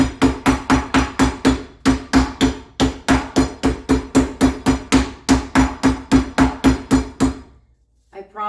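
A meat mallet pounds schnitzel flat in a steady, rapid series of about two dozen loud, close thuds, with a brief pause midway, then stops.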